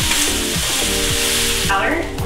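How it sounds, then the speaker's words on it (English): Onions, apple and garlic sizzle loudly in a pot, close up, while a spoon stirs and scrapes through them. The sizzle thins slightly near the end. "The apple, the garlic, stirring it up"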